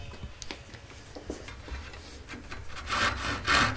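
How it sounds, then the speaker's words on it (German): Hand saw cutting off the overhanging bog oak edge banding on old furniture being restored, a steady rasping back-and-forth stroke close up that grows louder in the last second. "Nachdem der Überstand abgesägt ist, kann mit dem kleinen Hobel und dem Schleifpapier die Kante angepasst werden."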